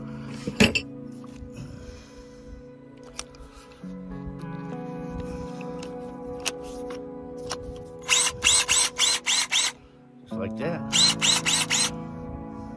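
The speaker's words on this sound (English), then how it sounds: "Hammer drill. It's hammer time." Bursts of rapid hammer-drill pounding on rock in the desert, two stretches of repeated impacts with a pause between. Someone speaks briefly beforehand amid clinks.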